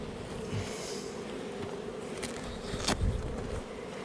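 Steady low buzzing of bees around an open beehive in North Queensland, Australia, a dense continuous hum with brief louder passes close by, no talking.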